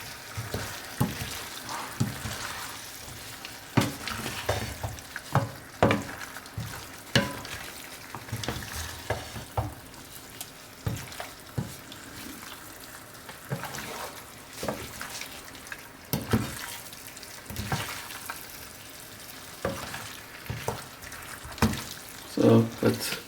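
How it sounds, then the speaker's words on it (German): Pasta with minced meat being stirred slowly in a sizzling pan, a continuous frying hiss punctuated by repeated scraping and clattering stirs, close by, with occasional talk. "So, tun wir Pasta hier rein. So, mal umrühren langsam."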